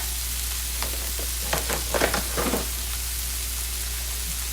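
Finely chopped cabbage sizzles in a pan of butter and olive oil, a steady close frying hiss with bursts of crackle and scraping as it is tossed around.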